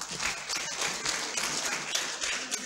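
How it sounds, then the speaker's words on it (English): A training-session audience applauds, a steady mass of clapping hands at moderate loudness with scattered sharper individual claps, no voices heard over it. "Please, another round of applause for her."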